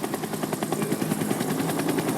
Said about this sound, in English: there's a helicopter on the pad from Shinra